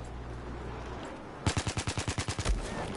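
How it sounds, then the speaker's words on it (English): A rapid string of about a dozen evenly spaced gunshots from Battlefield 4 gameplay, loud and punchy, following a stretch of quieter game ambience; the shooting involves a shotgun. "How did he shoot me with a shotgun that far?"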